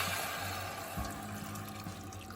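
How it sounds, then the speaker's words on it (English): Water pours steadily into a pot of chicken bones, a continuous close splashing and gurgling that stays even throughout, with no talking. "I'm going to add water"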